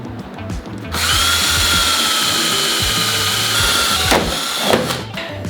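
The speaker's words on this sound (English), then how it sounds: "And I'm just gonna drill a hole like this." Power drill boring a hole through a PVC gate board, a steady high whine that starts after a second and runs loud and close, ending with a couple of brief pitch sweeps as the bit breaks through.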